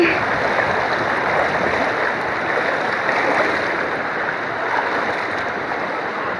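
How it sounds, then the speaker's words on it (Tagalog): A strong river current rushes at a campsite crossing in Tanay, Rizal, a loud, close, steady roar of flowing water that stays constant throughout with no pauses. "Ang lakas ng current ng tubig!"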